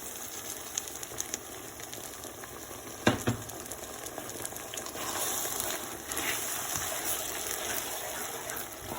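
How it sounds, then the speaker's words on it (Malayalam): Hot water poured into a bubbling chilli chicken gravy gives a steady sizzling, boiling gush with a sharp splash near the start, close and continuous. "നമുക്ക് ഗ്രേവിക്ക് വേണ്ടി കുറച്ച് ചൂടുവെള്ളം ഒഴിച്ചു കൊടുക്കാം."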